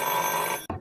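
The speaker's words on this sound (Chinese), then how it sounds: "接下来让我们来接听今天的第一通电话" A telephone rings for an incoming call to a late-night Chinese call-in mediation program, a steady electronic ring that cuts off abruptly near the end.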